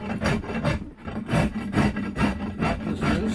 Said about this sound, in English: I will just rasp down.